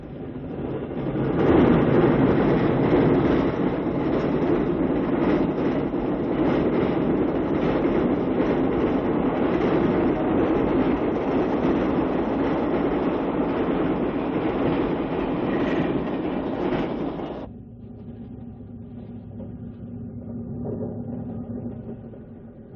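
The Chicago Mercury, a New York Central diesel passenger train at Dearborn, rumbles past with a steady loud roar and rail clatter before the sound drops suddenly to a quieter, lingering rumble.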